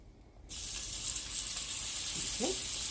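Butter sizzling steadily as it melts in a hot pan that has just been turned down, a continuous close hiss that starts abruptly and holds at a constant level.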